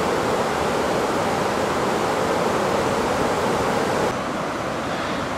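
Floodwater rushes loudly and continuously during flash flooding in Vienna, Virginia, a dense steady roar that drops slightly in level near the end, with no voices.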